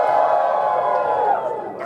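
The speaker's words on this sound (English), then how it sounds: "please raise your hoof and cheer" A convention panel audience at BronyCon cheers loudly for one side in a mock pony court, a dense sustained crowd roar with whoops that fades slightly toward the end.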